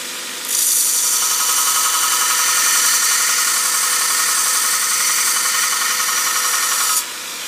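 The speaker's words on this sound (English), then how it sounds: "Next thing to do is to grind about half the top away there for where we're going to form our cutting edge." A lathe tool bit is ground against a wheel to form its cutting edge for an internal ACME thread, a loud continuous hissing grind lasting about six seconds before stopping abruptly, close up with no voices.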